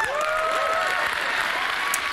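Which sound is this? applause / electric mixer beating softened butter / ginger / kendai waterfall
applause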